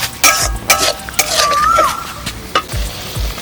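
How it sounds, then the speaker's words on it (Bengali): Stirring in a pan while water goes into chicken chaap gravy, with scraping spoon strokes, clinks and a sizzling, bubbling hiss, close and fairly loud. "তো জলটা দিয়ে নিচ্ছি।"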